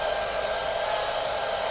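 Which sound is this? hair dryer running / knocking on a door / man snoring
hair dryer running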